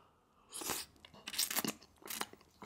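Loud, close crunching as someone bites and chews a jumbo Cajun prawn, a few crisp crunches in quick succession with no talking.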